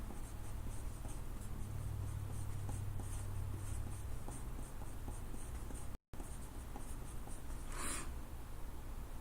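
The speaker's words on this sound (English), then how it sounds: "I'm going to write these points down" Pen writing down points on paper for a math lesson, a steady run of soft scratchy strokes close by across the whole stretch with a brief gap, no talking.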